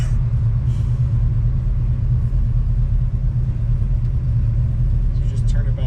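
A 440 engine in a 1962 Dodge Dart idles with a loud, steady low rumble, close and continuous throughout.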